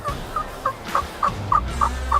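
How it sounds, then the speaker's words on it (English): A wild turkey in the southern woods produces a rapid series of short, evenly spaced calls, about eight in two seconds, moderately close and clear over faint background noise. "We heard the turkey gobble."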